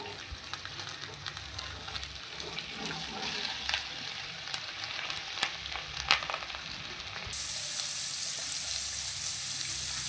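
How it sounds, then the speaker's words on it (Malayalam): Vegetables for a vegetable biryani sauté in a pan with a steady, moderate sizzle, scattered clicks and scrapes of stirring, and a brighter, louder hiss in the last few seconds; no speech. "ഇനി നമുക്ക് എടുത്തു വെച്ചിരിക്കുന്ന പച്ചക്കറികൾ ചേർത്ത് കൊടുക്കാം."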